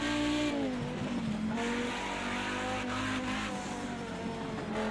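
An Audi Group B Quattro racing round Bathurst in Project CARS 2, its engine droning loud and steady with pitch dips and rises through gear changes and throttle lifts, plus light tire noise.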